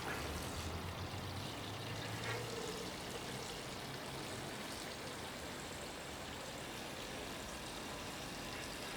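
About 1.5 litres of water pours into a cheap 14-inch self-watering hanging basket, a continuous, moderately loud splashing stream over a low rumble that stays steady throughout.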